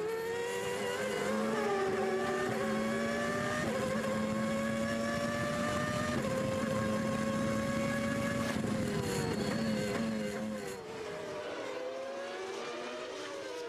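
Onboard Mika Hakkinen's McLaren Formula One car at the 1994 San Marino Grand Prix, the high-revving engine screams loudly, pitch climbing through gears, then drops sharply as it brakes near the end.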